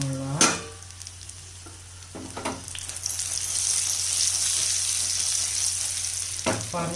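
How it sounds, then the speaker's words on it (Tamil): Brinjal sautés in oil in a covered pan with a steady, soft sizzle, broken by a few sharp clicks and scrapes near the start and the end. "இந்த மாதிரி வதக்கிக்கோங்க கத்திரிக்காவை"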